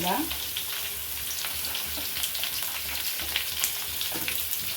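Cucumber and other vegetables for avial sizzle and crackle in a hot pan, a dense, continuous frying hiss that stays close and steady throughout.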